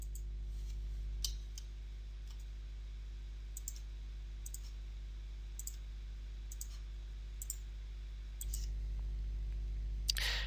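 Sharp, isolated computer mouse clicks land one at a time at irregular intervals, about eight in all, over a low steady electrical hum in a quiet room.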